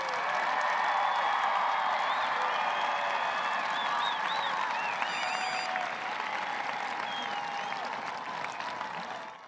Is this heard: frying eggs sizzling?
no